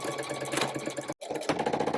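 A sewing machine stitches a fur clutch bag closed, whirring steadily and close with a rapid needle rhythm, briefly stopping once before running on again.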